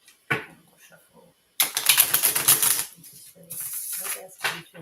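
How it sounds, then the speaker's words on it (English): Tarot cards are shuffled by hand in two bursts of crisp, rapid riffling and slapping, the second longer, with quiet pauses around them. "One more shuffle."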